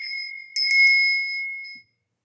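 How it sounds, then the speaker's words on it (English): A small ringing bell, like a bicycle bell, chimes with a couple of quick strikes whose clear tone lingers and fades out after about two seconds. "Let's ring the bell for this adult energy."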